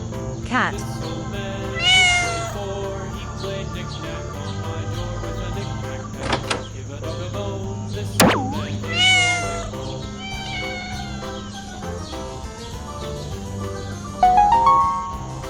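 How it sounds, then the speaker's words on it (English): A cat meows in a few clear, rising-and-falling calls spread across the clip over a steady tonal background, with a sharp bright chirp between them. "Cat."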